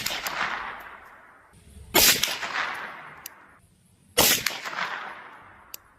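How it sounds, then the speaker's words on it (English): CCI Uppercut .22 rounds fired from a 10-inch .22 Charger pistol with a 4.5-power scope: three sharp, loud reports spaced about two seconds apart, each trailing off in a long outdoor decay, with no talking. "I rushed that 4th shot a little."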